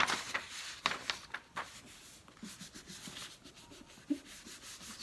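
Paper is rubbed back and forth over a rubber-stamped greeting card, giving soft, close scratchy strokes in an uneven rhythm with a few sharper scuffs and no talk.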